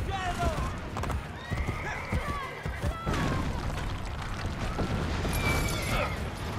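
A horse gallops with rapid clip-clopping hooves and gives a few whinnies in Assassin's Creed Brotherhood, mixed with game noise and someone talking over it at moderate volume.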